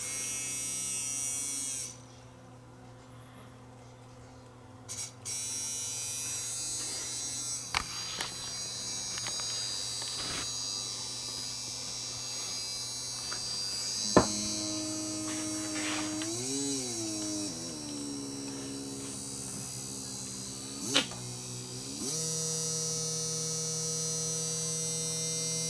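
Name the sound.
Bissell Power Stick vacuum motor humming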